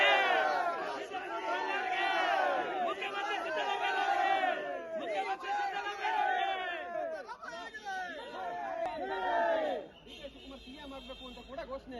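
Congress party supporters loudly chanting slogans for DK Shivakumar, a dense crowd of voices shouting in rhythmic waves with chatter underneath, the cheering dropping off briefly near the end.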